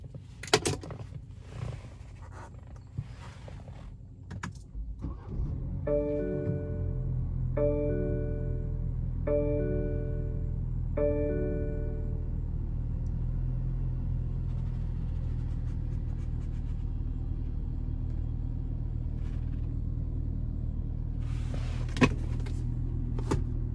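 A 2020 BMW 430i starts with a short series of starter whirs and chimes, then the engine settles into a low, steady idle rumble close by, with occasional clicks in the cabin.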